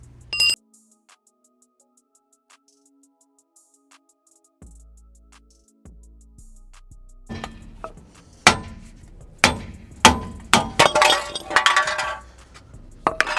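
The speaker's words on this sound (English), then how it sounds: "I'm gonna see if I can stick this or that fork in there and try to pry it out" A stuck wheel stud being pried out of a Scion xB hub with a metal fork, giving sharp metallic clinks and knocks that start sparse and grow into a dense run of ringing hits.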